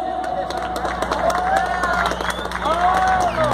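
Crowd at a Brazilian metal band concert applauding and cheering as a band member is introduced; dense, loud clapping and shouts fill the space continuously, with scattered whistles rising above the roar.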